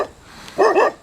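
Pet dogs bark in a short double bark, close and fairly loud after a faint murmur.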